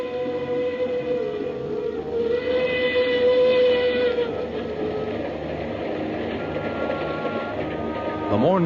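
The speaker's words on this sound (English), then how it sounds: "The mournful whistle of the Cape to Cairo Railroad engine sounded in the night" A steam train rumbles steadily at night, its long whistle sounding in sustained tones over the churning engine noise, with background voices mixed in; a 1951 radio drama.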